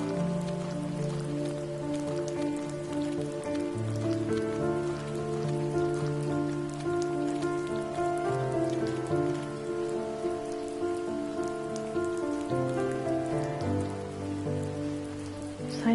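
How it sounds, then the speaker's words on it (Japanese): Steady rain patters across surfaces in a forest scene from the game The First Tree, a continuous soft hiss layered under sustained melodic background music, with no voices. "ちょっと雨降ってんのがなんか嫌なんだよな。"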